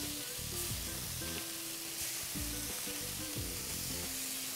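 Marinated veal liver sizzles steadily on a hot grill as it is flipped, a dense close frying hiss with soft stirring and scraping sounds throughout and no talk.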